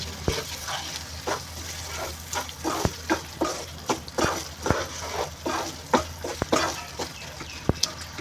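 Ginger and jaggery are stirred together in a hot pan, the spoon scraping in a steady rhythm of sharp clicks over a continuous sizzle, close and fairly loud with no voices.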